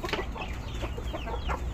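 White kampung chicken clucking in a backyard coop, close and fairly loud, a run of short repeated clucks with no talking.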